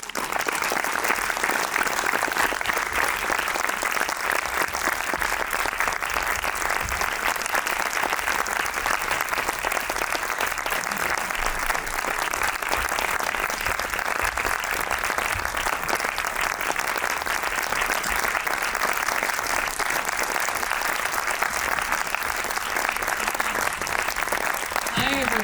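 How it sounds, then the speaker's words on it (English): Sustained, loud applause from a film festival audience welcoming an actress on stage, a dense, even wash of clapping that holds steady for the whole stretch with no voices standing out. "please make her feel at home and give a warm applause to Alicia Vikander"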